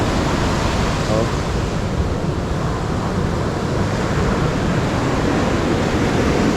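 Ocean waves at high tide washing against a damaged coastal structure in a barangay, a loud continuous rushing roar of surf with wind buffeting the microphone, no clear breaks between swells.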